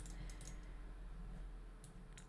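Quiet computer keyboard typing, a few short bursts of light key clicks at the start and end over a low steady hum.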